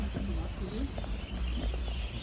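Birds sing outdoors beside a lake on a calm, windless day: a few soft chirps and short calls rise and fall over a low, murmuring background.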